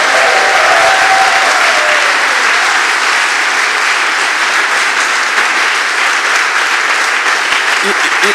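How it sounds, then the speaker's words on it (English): A large audience applauds speakers at a conference talk, sustained loud clapping that fills the room steadily from start to finish. "let's have a round of applause for our speakers"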